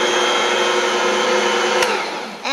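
Electric stand mixer kneading white bread dough, a loud steady motor whine held nearly constant, dipping slightly near the end before rising again.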